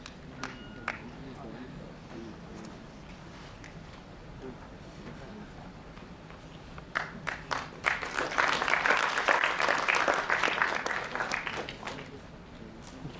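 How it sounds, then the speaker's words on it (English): At an awards ceremony, a voice speaks over a quiet room before an audience breaks into applause that swells for a few seconds and then fades. "Please give a big round of applause to Miss Divya Rani"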